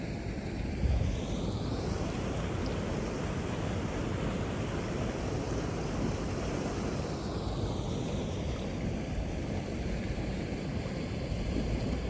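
Water flows steadily along an irrigation canal beside a farmhouse, a constant broad rushing wash heard from nearby, mixed with light wind buffeting on the microphone and no voices.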